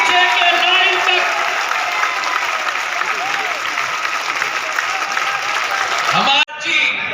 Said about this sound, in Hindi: तालियों की गड़गड़ाहट से पीछे के लाइन तक